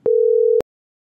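One steady telephone call tone beeps for roughly half a second, a clean, loud pitched hum that ends abruptly and is followed by silence.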